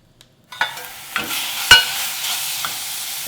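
Pork for kimchi buns hits a hot pan and sizzles, followed by several sharp scraping stirs and clanks of a utensil over a continuous frying hiss, close up with no talk.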